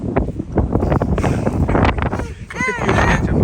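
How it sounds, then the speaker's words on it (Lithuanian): Strong wind buffets the microphone in Iceland as a steady, loud rush under several people talking, with a brief chiming tone near the end. "O Jėzus vėjas"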